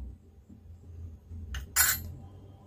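A spoon clinks a few times against a bowl while milk powder, maida and cornflour are mixed for homemade gulab jamun dough, quiet and close, with a short cluster of bright taps near the end.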